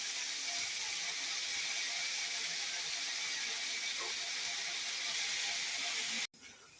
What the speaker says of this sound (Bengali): এখন আমি আলু ভাজি রান্না করতেছি